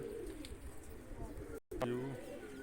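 A pet pigeon coos nearby in soft, low, repeated throaty phrases, heard under and between a man's speech, with a brief dropout partway through.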